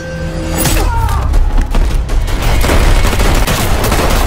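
Film action scene with a woman shooting guards: a loud, dense burst of gunfire with booming impacts and rapid shots, heavy and continuous throughout over a noisy soundtrack.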